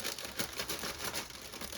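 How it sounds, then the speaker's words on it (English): A plastic bag of shingles crinkles and rustles steadily as it is cut and pulled open close by, a busy crackling texture with no talking. "Go ahead and cut the bag of shingles open too."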